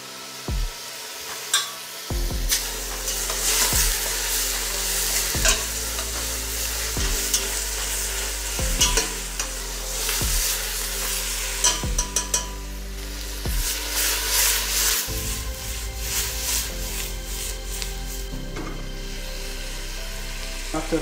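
Mutton sizzles loudly and steadily in a pan over medium heat, with periodic sharp clacks and scrapes from stirring throughout.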